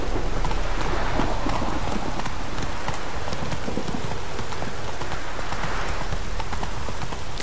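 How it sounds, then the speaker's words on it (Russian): Horse hooves in The Witcher 3 video game, a steady clip-clop of hoofbeats under continuous rain and rumbling thunder, loud and dense throughout with no talk. "не спеша на лошадке, вот таким вот образом скакать"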